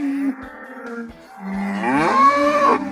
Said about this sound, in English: Their cows aren't too happy. They think they want grass.